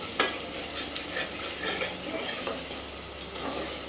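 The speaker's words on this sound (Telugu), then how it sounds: "ఇప్పుడు మెల్లమెల్లగా ఆయిల్ అంతా పైకి వస్తుంది. కింద మాడకుండా ఇలా తిప్పుతూ ఉండాలి." Chicken curry frying in oil in a pan while being stirred, a steady close sizzle with scraping spoon strokes against the pan and a few light clinks, no voices.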